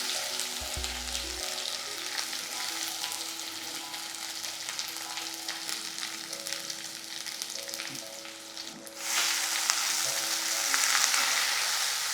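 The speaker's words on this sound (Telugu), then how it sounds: "వేసాక మనం ఈ గ్రైండ్ చేసిన ముద్ద ఉంది కదా, దాన్ని నూనెలో వేసేయండి" Ground masala paste frying in hot oil with curry leaves, a steady close sizzle and crackle that jumps louder near the end, with no one speaking.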